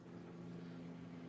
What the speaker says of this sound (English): Sorry if you can hear my ice machine going off